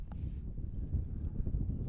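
Wind buffeting a microphone at a high school baseball field, a low rumbling roar with uneven gusts, close and steady throughout.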